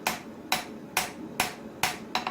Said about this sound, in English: using the flat face and the rounding hammer to get everything flat